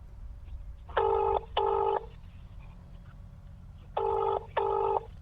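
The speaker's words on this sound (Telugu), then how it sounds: "సగం రింగ్ అయింది ఫస్ట్ రింగ్కే ఎత్తాలి" A phone ringback tone, on a call to a Chief Minister, sounds in two double pulses, each pair of buzzing rings followed by a pause, clear against faint background hum.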